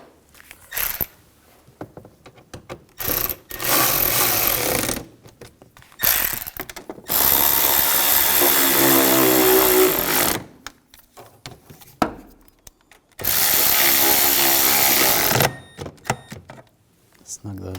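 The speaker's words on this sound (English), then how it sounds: "And the screw right here. Tighten these down." Power tool driving and tightening screws on a 2007-2013 BMW X5 3.0L inline-six during crankshaft position sensor replacement, several loud whirring bursts separated by pauses, with someone talking in between.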